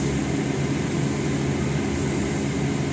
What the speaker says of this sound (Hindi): ये गाड़ी अपनी स्टार्ट हो चुकी है दोस्तों, ठीक है, एसी चालू है।